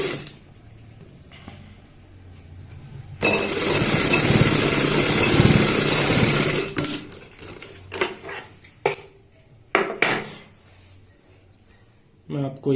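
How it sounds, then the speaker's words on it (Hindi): A sewing machine stitches a strip of gota patti lace onto a boat-neck kurti, giving a few seconds of loud, steady whirring. Quieter moments come before it, and a person talks with short mechanical sounds after it. "यहाँ पे भी सेम इसी तरीके से सिलाई लगाएंगे जैसे हमने पहली पट्टी पे लगाई है"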